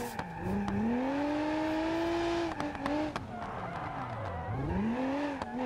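A Nissan 350Z drifting in the BeamNG driving game, its engine note rising and falling through long sweeping revs while tires squeal and skid continuously, loud and close, with brief clicks and bumps along the way.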